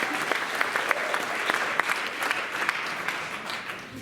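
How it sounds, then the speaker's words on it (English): A comedy show audience in Traverse City breaks into applause, a dense, steady wash of many hands clapping with scattered sharper claps, filling the room without any talk over it. "Give yourselves a round of applause."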